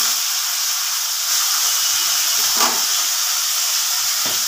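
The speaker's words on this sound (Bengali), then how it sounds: "আমি এখন দেখতে পাচ্ছি কড়াতে মাছ হচ্ছে, মাছ ভাজতে দিয়েছি, ভাজা হচ্ছে।" Fish fries in a kadai in a home kitchen with a constant, even hiss and sizzle, heard from a short distance with faint thumps and shuffles underneath.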